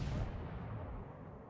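A heavy naval gun salvo booms in World of Warships during a defence of Naval Station Newport, one deep, rumbling blast that swells and then fades away.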